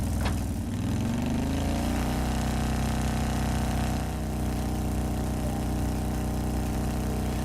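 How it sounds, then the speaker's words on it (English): In Trails of Cold Steel, a motorbike engine idles with a low, steady hum, then its pitch climbs smoothly as the clutch is let out and it settles into a constant drone. "I need to pull the clutch quickly and firmly, then change gears. And after that, I need to release the clutch slowly but steadily"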